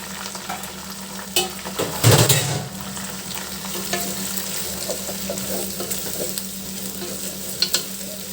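Tomatoes, potato and coriander sizzle and fry in a pan for chicken pulao, a steady close crackle with a louder burst of sizzling as ingredients drop in early on, then stirring scrapes.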